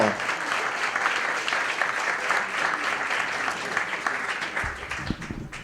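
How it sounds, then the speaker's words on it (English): A crowd applauds an astronaut introduced before a talk on space photography, with continuous thick clapping that holds steady and thins slightly toward the end. "Warm applause for Dr. Leroy Chiao."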